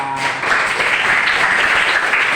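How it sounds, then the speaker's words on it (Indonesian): Classroom applause from students, short, loud and continuous, a dense wash of clapping with no gaps. "Tepuk tangan buat kita semua."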